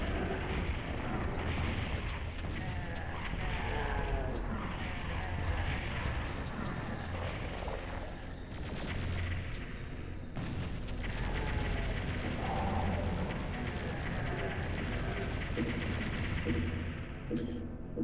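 Rocket launcher explosions from Doom on the PS1 sound as repeated heavy booms and rumbling blasts over a dense, continuous layer of game noise, with a voice talking over it.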